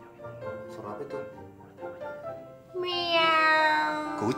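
A person talks briefly, then a voice imitates a cat with a long, drawn-out, rising and falling meow.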